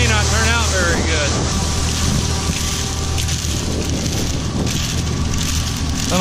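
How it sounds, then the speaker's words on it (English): Heavy, continuous wind buffeting on a camera microphone outdoors during a corn harvest, a loud roaring rumble that fills the whole clip, with a voice faintly audible beneath it. "I'm not sure how much wind noise I'm picking up on this."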